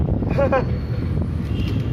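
Wind gusts roar across the microphone in a low, steady rumble at a shopping mall in the Philippines, with a brief voice-like tone near the start.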